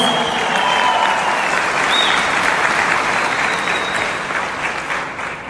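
Enthusiastic applause from a crowd, steady clapping that gradually fades toward the end.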